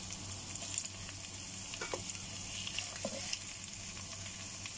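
Pork leg dropped into a pot with onions for paksiw gives a steady, close sizzling hiss with a few scattered pops and crackles, no voices.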